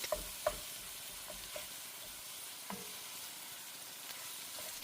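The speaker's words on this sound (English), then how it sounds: "Now I'm going to break that apart and continue cooking and browning the meat." Ground meat browns in a pan, a soft steady sizzle with a few scraping knocks at the start as it is broken apart, then quieter continuous frying without speech.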